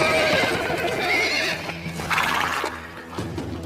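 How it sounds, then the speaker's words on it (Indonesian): A horse whinnies from a distance in a film scene, a loud drawn-out neigh with a falling tail and no talk over it. "terdengar suara kuda meringkik dari kejauhan"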